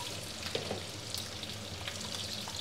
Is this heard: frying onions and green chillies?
yes